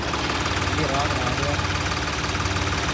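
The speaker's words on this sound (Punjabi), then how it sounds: "ਹੁਣ ਆਪਾਂ ਮੋੜ ਕੱਢ ਕੇ ਟਰੈਕਟਰ ਪਾਵਾਂਗੇ" A tractor engine idles with a steady low rumble and vibration while the machine turns in a muddy farm field, loud and close, with people talking over it.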